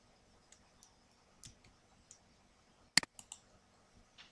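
Computer mouse clicks while editing a web page, a sparse series of light, quick clicks spread over a few seconds, including a sharper cluster of two or three near the middle, in a quiet room.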